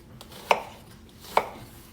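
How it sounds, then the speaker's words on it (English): A knife chops through an onion on a cutting board, with two crisp, evenly spaced thuds over a quiet background. "Tip blade doesn't leave the cutting board, and just cut right through."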